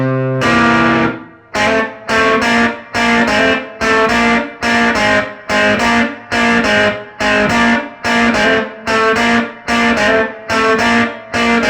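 Electric guitar with distortion and effects plays the tenor sax riff from a 1956 song, a loud, steady rhythmic figure of repeated chopped phrases with short gaps between them.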